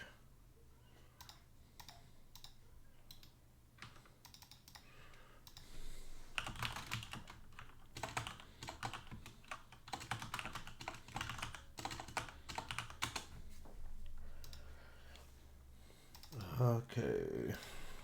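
While Eudemons Online is played, a computer mouse and keyboard give bursts of rapid clicking and tapping, close and fairly quiet, with a voice talking softly at times.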